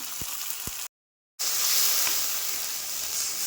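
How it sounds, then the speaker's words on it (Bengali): A paste of ground cumin, ginger and green chili frying in a pan for a Bengali rohu fish curry, giving a continuous close sizzle that drops out briefly to silence before resuming. "সেই মশলাটা দিয়ে ভালো করে কষিয়ে নেব"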